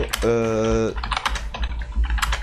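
Rapid clatter of keys typed on a computer keyboard during a live broadcast, loud and close, with a voice sounding over the start of the typing.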